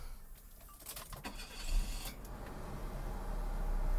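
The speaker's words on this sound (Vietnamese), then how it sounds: "Mình có nổ máy lên cho các bạn." A 2008 Kia Morning automatic's engine cranks and catches, then settles into a low, steady idle that grows slightly louder.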